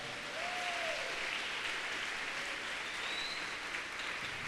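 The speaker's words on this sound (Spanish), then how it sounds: "Denle un fuerte aplauso al Señor." Sustained applause from a sizable church congregation, steady and even throughout, with a faint whistle or cheer rising above the clapping.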